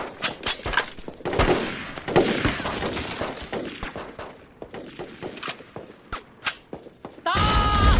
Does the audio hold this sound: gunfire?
yes